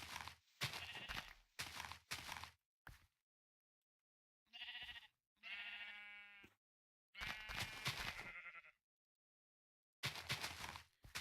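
Sheep in the Minecraft video game bleat repeatedly, several separate loud, wavering baas in quick succession with short silences between them, no speech.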